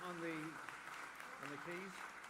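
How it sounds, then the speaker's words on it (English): Applause from a concert audience for a community choir and its keyboard player, a steady wash of clapping heard under a presenter's voice. "Can we have one more round of applause for them"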